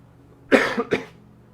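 Two quick coughs close together, the first stronger than the second, heard nearby against a quiet background.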